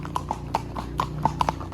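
Horse hooves clip-clop on a ride through Bucerias, Mexico, a close, uneven string of about ten sharp knocking steps over a low steady background rumble.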